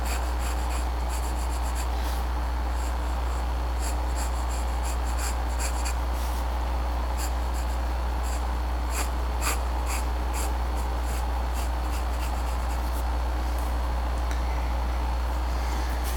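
A pencil sketches a picture square by square on a grid, giving continuous close scratchy strokes with frequent short ticks and taps, over a steady low hum.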